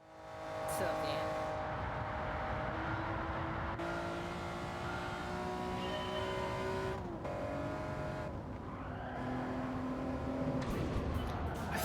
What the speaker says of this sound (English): I think I spun out there for a second.